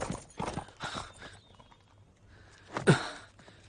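A horse's hooves clip-clop in a few uneven, fairly soft strikes, with a sharper louder clop near the end, in a rainy-night scene from a Korean drama.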